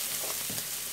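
Onions dropped into a pan of browned bacon, giving a steady, close hiss of frying fat with faint crackle and no talk.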